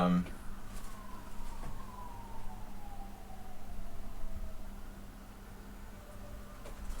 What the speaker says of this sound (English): Construction noises and ambulances simultaneously just started like going nuts.